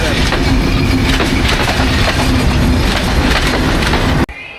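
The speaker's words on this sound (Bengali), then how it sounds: "ট্রেনের যে ঝিকঝিক ঝিকঝিক আওয়াজ এই আওয়াজটা কিন্তু অসম্ভব ভালো লাগে" A train rumbles along loudly at Natore railway station, Bangladesh, with rhythmic clickety-clack of wheels on rails, steady throughout, then cuts off abruptly near the end.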